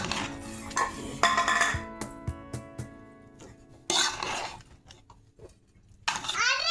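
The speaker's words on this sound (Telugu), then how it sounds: "బిర్యానీ ఇప్పుడు బాగా కలుపుకోవాలి" A spoon stirs chicken biryani in a metal pot, giving close, repeated scraping and clinking strokes in uneven bursts, with short pauses and faint voices in the background.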